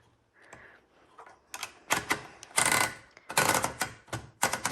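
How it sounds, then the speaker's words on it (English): Paper is loaded into a 1902 Smith Premier No. 2 typewriter: a soft ratcheting whir of the hard platen turning, followed by a series of sharp close mechanical clicks and clacks in irregular bursts. "we're going to load our paper right here"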